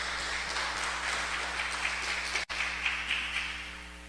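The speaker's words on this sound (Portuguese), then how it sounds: "Dê uma salva de palmas, bem alegre, para louvar o nome do Senhor Jesus" A Pentecostal church congregation claps a joyful round of applause in praise, a steady wash of many hands over a low electrical hum, with a brief dropout in the middle.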